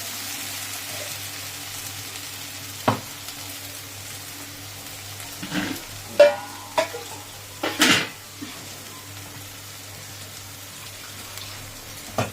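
A ginger spice paste for spiced paneer hits the hot pan in a few scattered sizzling and clattering bursts, fairly faint over a steady low background hum, with no talking.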